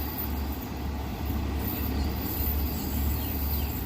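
Long-distance train on Thailand's southern line running through Photharam station without stopping, heard as a steady broadband rumble of wheels and carriages at moderate level, with a faint high whine above it.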